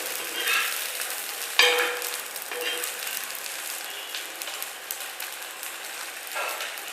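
Eggless parotta fries in oil on a pan with a steady, close crackling sizzle, broken by a few louder scrapes and flips as it is turned over.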